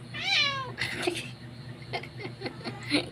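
A kitten gives a single high, rising meow up close, followed by soft rustling and faint low noises in a quiet room.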